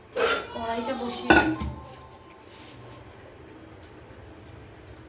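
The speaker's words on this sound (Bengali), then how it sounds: "তো এই যে সবজি ভাজবে বলে কড়াই বসিয়ে দিচ্ছি" A kadai set down on a stove with a clattering metallic clunk and rattle, followed by a low steady background hum, with a voice speaking over the first couple of seconds.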